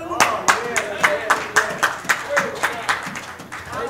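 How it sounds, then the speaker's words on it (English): A church congregation claps in a steady rhythm, about three claps a second, with each hit sharp and distinct. The clapping runs alone for a few seconds. "Let's clap unto the Lord."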